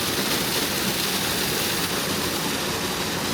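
Small waterfalls rush in a loud, steady broadband roar that holds unbroken throughout, with no voices over it.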